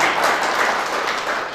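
Applause from a gathered crowd at a retirement function, a dense continuous wash of many hands clapping that holds steady and fades slightly toward the end.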